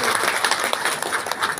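Audience applause at a bank's mosque business-loan program launch: dense, steady clapping from a nearby crowd fills the whole short stretch, with a few louder individual claps standing out.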